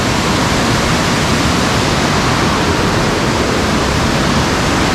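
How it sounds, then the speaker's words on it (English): A waterfall cascading down from the forest near Juneau, Alaska, makes a steady, dense roar that stays loud and unbroken throughout, with no voices. "that waterfall goes way up there into the forest"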